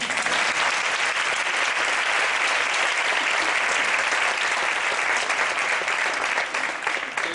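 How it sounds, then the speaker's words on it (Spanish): Dense, sustained applause fills a hall at a gala honoring bullfighter Francisco Rivera Ordóñez, a loud continuous roar of many hands that holds steady before easing slightly at the end. "Quiero un aplauso."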